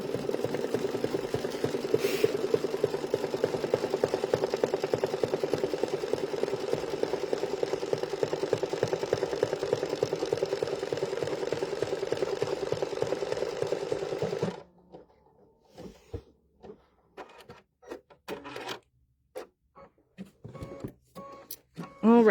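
A sewing machine stitching a quilted bench pillow runs steadily and close for about fourteen seconds with a continuous mechanical whir, then stops, leaving scattered clicks and handling noises.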